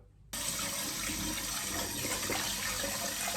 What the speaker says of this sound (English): I'm going to put the rice into the pan and then give it a few rinses to get rid of some of that starch.